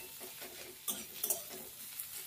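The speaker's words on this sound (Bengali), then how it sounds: "এবার গ্যাসটা বাড়িয়ে পেঁয়াজটাকে একটু লাল লাল করে ভাজা ভাজা করে নেবো।" Onions fry over a raised gas flame with a low, steady sizzle, while a few brief scrapes and taps of a stirring utensil ring out against the pan, close and fairly faint.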